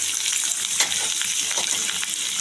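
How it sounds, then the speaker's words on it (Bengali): Garlic fries in oil with dried chili and nigella seeds as onions go in, a steady close sizzle with brief stirring scrapes and a momentary surge of crackle. "রসুনটা একটু ভাজা ভাজা হতে হতে আমি দিয়ে দেবো পেঁয়াজ"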